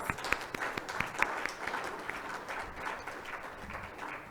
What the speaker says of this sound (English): I think PK actually deserves another round of applause.